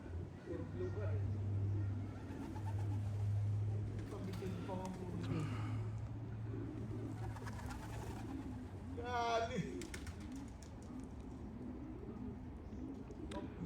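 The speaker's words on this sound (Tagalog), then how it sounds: "Okay, so nandito na mga ibon." Racing pigeons coo softly at close range amid a faint outdoor hum, with occasional people talking and a brief whirring flutter partway through.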